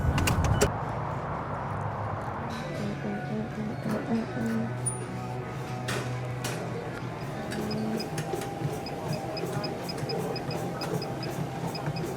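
A car drives on a short trip to a gym, giving a steady hum of road and engine noise inside the cabin with faint ticks over it.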